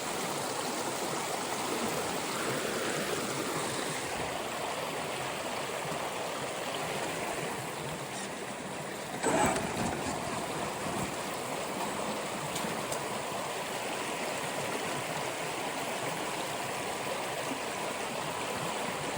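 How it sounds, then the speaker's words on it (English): River stream rushing over rocks on an off-road RC truck course, a steady broadband wash of flowing water at moderate distance, continuous and alone with one brief louder splash midway. "Yeah, it's a pretty cool river."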